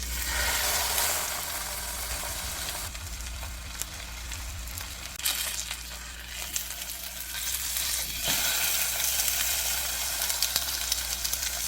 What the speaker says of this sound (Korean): 팬에 버터 녹이고 메로구이로 드셔보세요